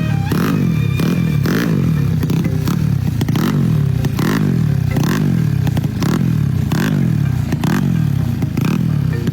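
A motorcycle engine in a repair shop is revved repeatedly during a power test, loud and close, with about nine rhythmic rising-and-falling rev cycles and clattery mechanical noise between them.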